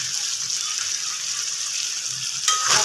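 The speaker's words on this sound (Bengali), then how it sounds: "এখন আমি এই আলুগুলা ঢেলে দিব" Tripe frying with spices in a pan sizzles steadily as potatoes are poured in, with a brief louder splash of the pour near the end; close and fairly quiet, no talking.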